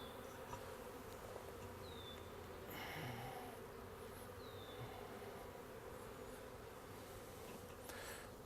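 Honey bees buzzing around an opened, heavily split hive, a soft continuous hum with occasional louder passes of single bees near the microphone over about eight seconds.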